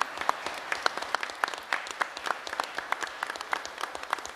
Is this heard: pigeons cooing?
no